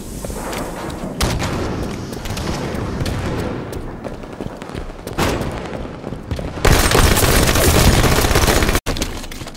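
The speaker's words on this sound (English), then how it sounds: "Sniper rifles on the field." Sniper rifle fire in a video game, heavy booming shots and thuds scattered across a dense, noisy battle wash, loud and close, with a sustained roaring burst near the end and no talk.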